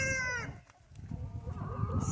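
Backyard chickens clucking and a rooster crowing loudly nearby as the flock picks through freshly turned compost and soil, over a low rumbling background.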